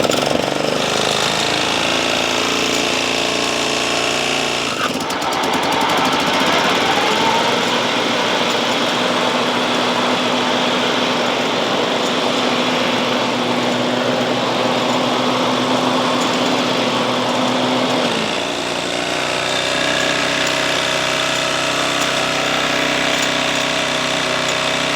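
A Toro Timemaster self-propelled lawn mower runs steadily up close, its engine drone continuous throughout with a rougher, popping stretch in the middle.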